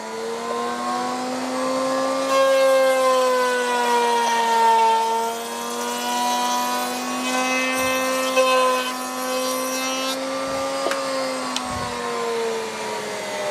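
Handheld router cutting wood for drawer construction, a loud sustained high-pitched whine with steady tone that wavers slightly, broken by a few brief dips as the cut changes, no talking.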